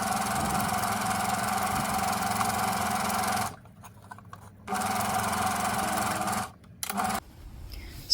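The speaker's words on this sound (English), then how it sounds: "We've just got the flat foot presser and we're stitching through all the layers." Sewing machine with a flat presser foot running steadily through several fabric layers for a turban, a continuous loud mechanical whir with two short pauses where the stitching stops.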